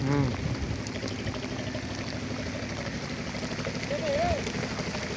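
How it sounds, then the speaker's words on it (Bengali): Rain falls on the Padma riverbank in Rajshahi as a steady, even hiss throughout. A voice is heard briefly at the start, and a short whistle-like sound comes near the end. "বৃষ্টি পড়তেছে"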